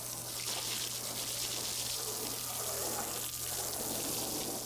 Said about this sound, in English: Obviously next we're going to go ahead and rinse the bumper off.